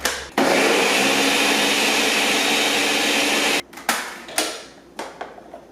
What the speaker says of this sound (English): Now blend all the ingredients in the blender.